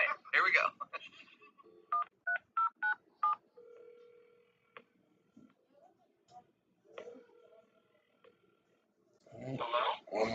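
A rapid series of telephone keypad tones as a number is dialed, about eight short beeps close to the mic, followed by a faint ringing tone, with speech before and after.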